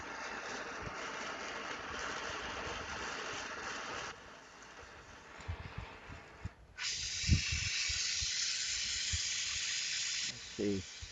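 Glassworking torch flame hissing steadily during repair of a glass figurine, a broad noisy rush that cuts off midway then returns louder, with brief clinks and handling sounds near the end.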